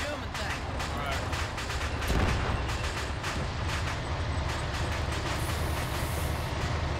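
A tank moving in the military video game Arma 3, a steady loud rumble and clatter of armor with sharp gunfire-like cracks, a heavier thump near the middle, under voices talking.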